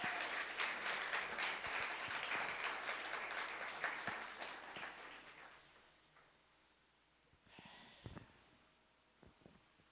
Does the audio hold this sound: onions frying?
no